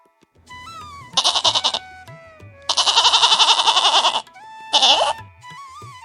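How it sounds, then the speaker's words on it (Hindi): A goat bleats loudly and close by in three wavering, drawn-out cries, the middle one longest, with short quieter pauses between them. "रामदीन और धनिया की जिंदगी इस बकरी के इर्द गिर्द घूमती थी"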